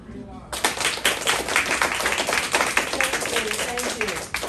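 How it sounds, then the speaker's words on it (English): A group of people gives a soft golf clap, a steady patter of light hand claps that starts together and carries on for several seconds, close and fairly loud, with scattered voices mixed in. "So what kind of AVID clap we gonna give her? A golf clap."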